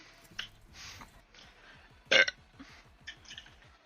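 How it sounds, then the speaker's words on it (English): A single loud burp erupts close to the microphone, brief and throaty, set among quieter background noise and faint murmurs. "Can you burp check?"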